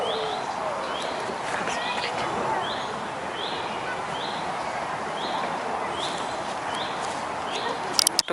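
Soft, repeated cooing of pigeons in a city park on a warm day, a steady rhythmic series over a continuous wash of outdoor ambience and chirping, with faint talk nearby and a few handling clicks at the end.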